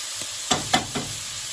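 Spice mix hitting a very hot pan while cooking a warm calamari and chickpea dish, heard as three or four short, bright sizzling bursts close by, each fading quickly, with no talking.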